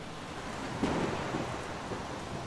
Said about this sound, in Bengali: উফ কি বৃষ্টি